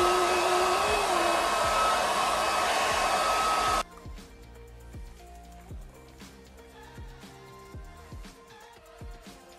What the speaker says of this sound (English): Now it's time to dry my hair and I'll show you the results.